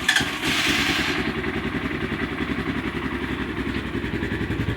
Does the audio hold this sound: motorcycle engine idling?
yes